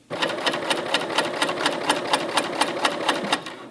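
A sewing machine with a compensating foot stitches hefty sweater knit at a long stitch length of about 3.8, a rapid, even run of close mechanical clicks over a steady whir.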